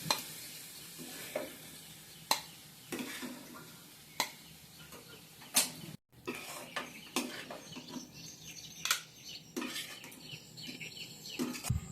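Pumpkin pieces frying in a pan for a Bengali pumpkin bhaji, a soft continuous sizzle with irregular spatula clicks and scrapes, close but fairly quiet, faint bird chirps in the background.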